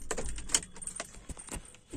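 Car keys jangle in a parking area beside a car, a run of light metallic clinks and rattles with a sharper burst partway through, close and fairly quiet, with no speech.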